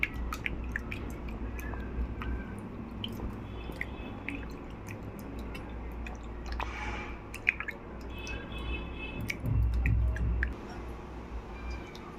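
Clams washed one by one by hand in water: close, wet squishing, dripping and rubbing, with a steady low rumble, a sharp tick and a brief louder splash near the end, no talk.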